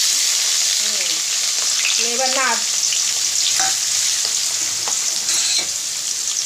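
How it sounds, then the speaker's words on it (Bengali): Chopped onions fry in hot oil in a pan while meat is being cooked, giving a steady, loud sizzle throughout. A voice speaks briefly over it and a few utensil scrapes and stirs break in. "পেঁয়াজটা ভাজা ভাজা হোক"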